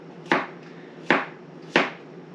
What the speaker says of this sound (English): all I'm going to do is we're just going to chop up these